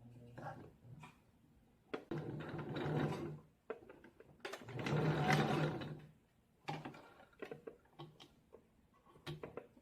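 A sewing machine runs a stretch stitch on knit bra fabric in a few sustained bursts of mechanical whirring, separated by short pauses and light clicks.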